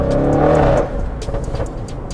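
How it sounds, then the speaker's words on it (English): An Audi RS6 C7 with a full Milltek exhaust and 720 brake horsepower revs hard close by, a loud, gruff roar that drops off into a burbling, crackling idle. "720 brake horsepower, full Milltek exhaust."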